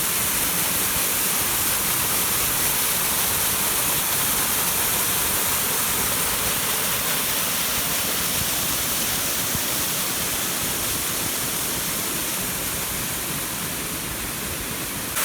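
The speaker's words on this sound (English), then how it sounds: "I would estimate that it's probably at least a 15-foot waterfall. And pretty nice flow." A roughly 15-foot waterfall near Glasgow, Virginia pours with a strong flow, making a loud, continuous broadband roar with no talking.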